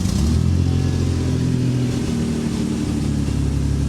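A 1991 Mercury Cougar engine with a badly leaking, worn exhaust idles and revs, a loud rough rumble with low throbbing tones, steady and close with no talk.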